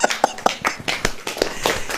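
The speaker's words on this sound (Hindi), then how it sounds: "ताली बजेगी कि नहीं?" Audience hands clapping during a Hindi church sermon, a loose burst of sharp overlapping claps spread through the room at moderate volume with no talk over it.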